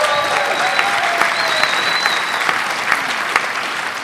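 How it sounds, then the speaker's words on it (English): Audience applause for film quiz contestants at a live Christmas special podcast recording, a steady dense wash of clapping from a crowd, loud and sustained throughout with faint whistles above it. "A round of applause for all of our contestants."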